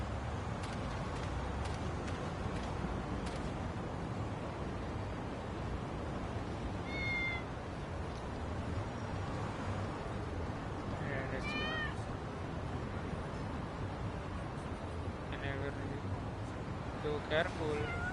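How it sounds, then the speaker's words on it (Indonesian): Several cat meows from the video game Lost Judgment sound over busy game ambience, rising mewing calls at intervals, with a person talking throughout. "Ih, kucing."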